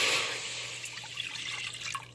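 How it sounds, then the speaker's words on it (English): Water poured from a measuring cup into a pot already heating on the stove, a steady close splashing pour that tapers into trickling and faint drips. "I'm going to pour the water into the pot that's already warming up"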